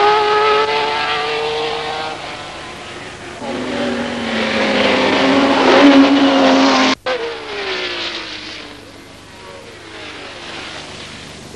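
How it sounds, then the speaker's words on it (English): 1971 Brands Hatch 1000 km race: a Porsche leads two Alfa Romeo sports racers past, engines screaming loud and close, pitch sweeping up then dropping as the cars pass, followed by a sharp break and fading engine drone. "Porsche into the lead, followed by the two Alphas."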